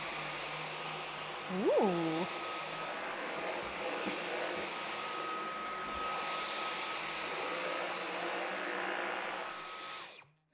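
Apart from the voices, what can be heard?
Dyson V12 Detect Slim vacuum cleaner picking up dog hair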